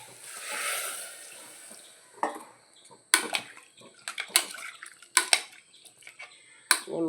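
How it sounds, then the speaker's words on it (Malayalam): Water is poured into a pan of curry, a brief liquid wash followed by scattered clinks and scrapes of a spoon against the pan, close and fairly quiet. "നമുക്ക് കുറച്ച് വെള്ളം ഒഴിച്ച് കൊടുക്കാം."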